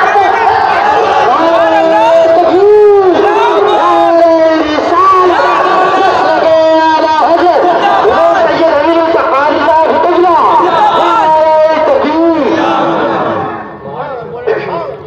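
A large crowd at a Sunni religious gathering shouts the Nara-e-Takbeer slogan in loud, repeated call-and-response bursts. The voices are dense and raised, with a sustained roar that drops away near the end.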